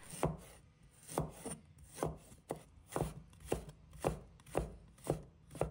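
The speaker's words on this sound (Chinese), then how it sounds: "生姜切成丝" Knife chopping ginger into shreds on a board, producing about a dozen soft, regular taps in a steady rhythm, fairly quiet, and no voices.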